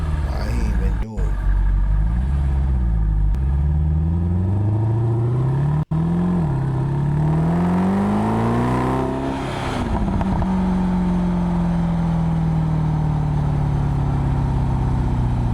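A Mercedes-Benz SLS AMG engine revs up and down from inside the cabin, a loud rising and falling roar with downshift blips, heard continuously and close.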